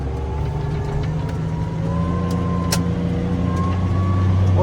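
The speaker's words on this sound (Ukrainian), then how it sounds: "Трактор буксує, пробуксовка сумасшедша." A tractor ploughs a wet, muddy field with its wheels slipping, the engine droning steadily and loud close by, with no talking.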